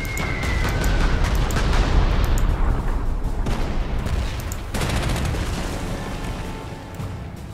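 Bombing attack in the World War II strategy game Panzer Corps 2, a dense roar of rumbling explosions and rapid gunfire that swells, dips midway, then resumes, loud and continuous with no voices.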